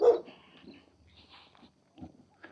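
A dog barks at a passer-by on a street in Mourilyan: one loud, close bark at the start, followed by softer yips and whimpers with short pauses between them.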